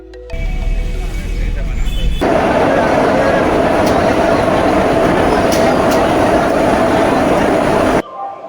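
Vande Bharat Express train waiting at a Howrah station platform, with a loud, steady engine and platform drone, a hum that holds throughout and some background voices.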